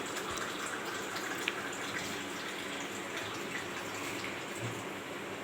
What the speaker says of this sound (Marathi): पाणी टाकून घ्यायचं आता साधं थंड पाणी